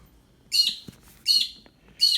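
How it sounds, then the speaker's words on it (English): A bird chirps in three sharp, bright calls spaced about three-quarters of a second apart, close and fairly loud against a quiet background. "noisy bird."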